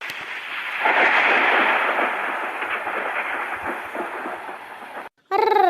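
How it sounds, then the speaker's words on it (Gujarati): A long, loud rumble of thunder rolls on for several seconds at night, broad and booming, then cuts off abruptly before a brief burst of a different noise. "ગાજવાનો અવાજ આવે છે"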